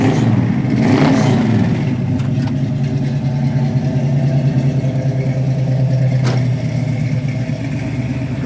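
A 1967 Pontiac Firebird with a 400 engine and dual exhaust: a loud, close, deep rumble that rises with a rev near the start, then settles into a steady idle with no talking.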